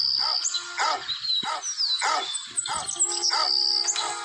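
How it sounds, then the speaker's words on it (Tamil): A dog in the game Bad Granny barks repeatedly, about eight sharp, loud yaps in quick succession with high-pitched game tones running underneath. "இந்த நாய் வேறு காட்டி கொடுத்துருச்சு"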